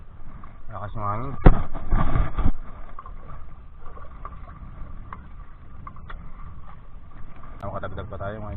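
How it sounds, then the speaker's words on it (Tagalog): Strong wind rushes steadily across the microphone on rough water during ultralight jigging fishing, with a loud buffeting gust early on and a low continuous roar throughout. "Lakas ng hangin."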